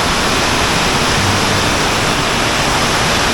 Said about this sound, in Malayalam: താഴെക്കൂടെ വെള്ളം ഒഴുകുന്നുണ്ട്